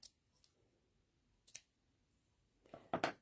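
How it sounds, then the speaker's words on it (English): Quiet room with a few soft snips of scissors trimming ribbon, the last cuts louder and closer near the end. "get my good scissors and trim that down"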